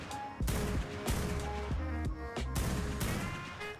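Repeated loud gunshots from a magazine being emptied in the game Primal Fear, sharp close reports arriving in bursts over a steady music and effects bed.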